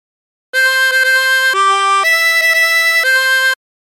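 A 16-hole tremolo harmonica plays the melody of Oh My Darling Clementine as a short phrase of clear sustained reedy notes, each with a wavering tremolo, loud and close with no talking.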